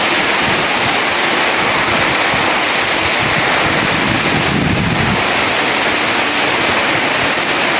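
A Kalbaishakhi storm drives rain and wind in a loud, steady broadband roar that barely varies, with a brief low gust swelling near the middle and no voices.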